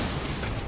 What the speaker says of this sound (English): Now I'm gonna throw the proximity mine.